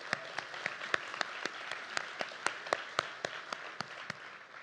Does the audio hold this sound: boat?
no